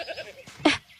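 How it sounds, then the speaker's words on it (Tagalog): A goat bleats close by in short, wavering cries, a brief burst alone with no talk over it. "Teka, ano yan? Kambing na naman?"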